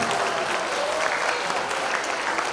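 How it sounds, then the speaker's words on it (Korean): A hall full of people applauds at a sixth-grade debate competition in a hotel, with loud, dense, sustained clapping from start to finish. "여러분 모두 스스로를 위해서 큰 박수 한번 주실까요?"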